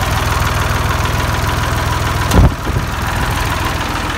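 A Massey industrial 40 tractor engine idles steadily while warming up, a close, continuous low rumble with a brief louder knock or clatter midway.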